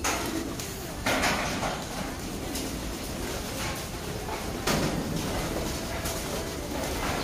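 Many racing pigeons at a breeder's loft during feeding, a dense steady crowd of cooing and wing flutter with occasional louder bursts of movement, no voices.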